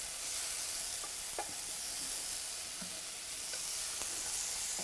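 Onion dropped into a hot pan with beef and tomatoes, giving a soft, steady sizzle with a few faint crackles, quiet and close, no voices.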